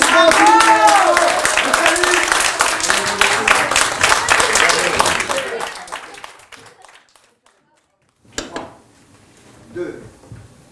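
Loud audience applause fills a theatre for a staged card game scene, dense clapping for about six seconds that fades into near silence, then a few scattered sounds follow.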